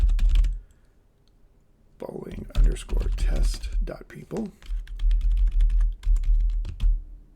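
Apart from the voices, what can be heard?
typing on a computer keyboard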